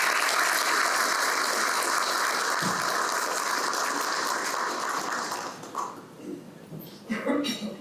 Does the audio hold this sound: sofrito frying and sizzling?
no